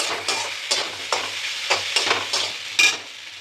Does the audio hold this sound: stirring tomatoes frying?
yes